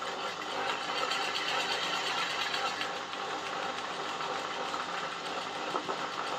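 An embroidery sewing machine runs slowly in a steady, continuous mechanical whir that holds at an even level for the whole stretch without pausing.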